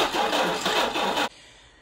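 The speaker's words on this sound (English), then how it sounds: "is doing just a phenomenal job at cranking that engine over" A 24-volt starter cranks the engine of a 1952 Willys M38 Jeep in a brief, loud, rapid churn for just over a second, then stops abruptly, leaving a faint background hum.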